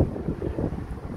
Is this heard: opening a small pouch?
no